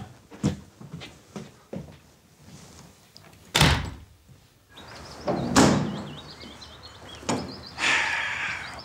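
Indoor doors banging shut one after another, loud sharp thuds at an uneven pace, with scraping and rattling of doors being pulled between slams.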